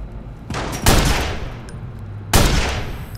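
Two heavy sniper shots ring out in the Watch Dogs game during a street shootout, each a sharp loud crack with a long decaying tail, spaced about a second and a half apart, with no voices.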